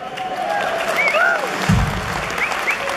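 An audience at a live event at the Grand gives sustained applause with scattered whistles and cheers, a dense crackling wash of clapping that stays steady throughout.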